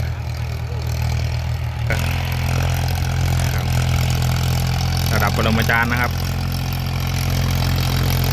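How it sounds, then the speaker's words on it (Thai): A low, steady John Deere tractor engine idles throughout, beside a rice paddy being levelled, with someone talking over it near the end. "ขออนุญาตรีวิวรถไถจอนเดียครับ จะปรับพื้นที่นา"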